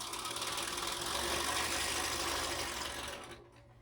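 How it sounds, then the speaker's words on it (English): A standard domestic sewing machine stitches a line across a large quilt, giving a close, steady, rapid whirring hum that holds for about three seconds and then winds down to a stop. "I'm ready to sew this line back the other way"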